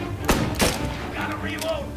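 Shotgun blasts in the video game Mafia: two heavy, punchy shots in quick succession, close and loud, followed by muffled game noise and speech-like sound.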